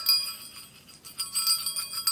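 A small blue bell charm jingles with light, bright tinkles, a few quick clusters of ringing close by, with no one talking.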